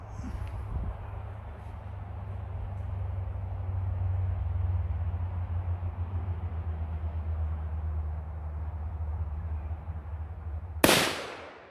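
A single loud shot from a .454 Casull firing 160-grain Barnes Tac-XP bullets bursts out near the end, following several seconds of steady low background rumble.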